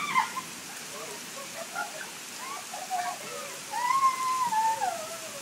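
Steady rain falls outdoors in a soft, even wash while people dance in it, with faint voices and brief chirpy sounds scattered over the patter.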